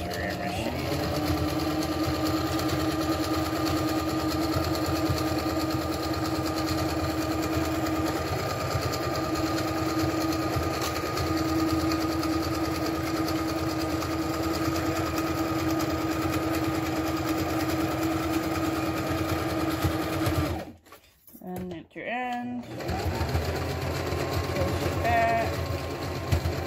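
A sewing machine stitches DIY bias tape onto a surgical mask, running in a steady, fast mechanical whir for most of the stretch, then stopping briefly before restarting.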